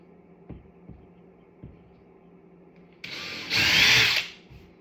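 A few soft taps, then a power drill whirs loudly into drywall for about a second and a half before stopping.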